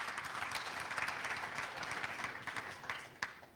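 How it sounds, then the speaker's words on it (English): Quiet, distant audience applause in a hall, soft steady clapping with a few sharper individual claps standing out toward the end. "That is worth applause."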